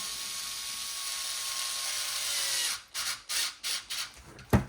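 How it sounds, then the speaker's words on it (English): A power drill whirs steadily at high speed, driving a nut, then stops and restarts in several short bursts. "hold the nut in, forward the drill."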